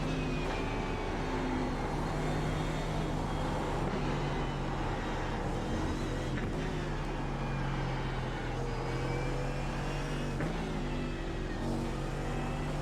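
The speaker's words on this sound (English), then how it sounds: "Why the Mercedes? It's just the car that I like the sound of" A Mercedes GT race car in a racing video game, its engine droning steadily at high revs with occasional shifts in pitch, continuous and close throughout with no talking.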